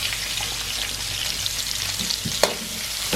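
Cumin seeds sizzling in hot oil in a pan, a steady bright crackle with a short sharp pop near the end, no voices.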